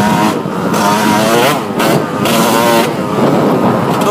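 A GasGas EC 125 enduro motorcycle weighing about 94 kg revs loudly and close while being ridden, its engine pitch rising and falling in repeated sweeps with no talking.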